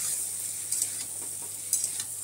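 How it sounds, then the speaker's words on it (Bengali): Pointed gourd and prawn heads frying together in a pan, a steady bright sizzle with a couple of soft stirring clinks, no voices. "পটলগুলো দিয়ে সামান্য 3-4 মিনিট মতন একটু ভেজে নেবো একসাথেই সব কিছু।"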